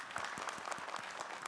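Studio audience at an Islamic religious talk show clapping their hands, a brief faint burst of dense, even applause heard from a distance.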